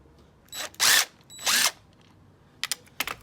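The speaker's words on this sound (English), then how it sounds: "Let's start by taking off that 13 millimeter that's holding the frame bolt here." A power tool whirs in short bursts while backing out a 13 mm frame bolt on a Husqvarna Vitpilen motorcycle, two strong spins followed by a few quick clicks, close by in a quiet workspace.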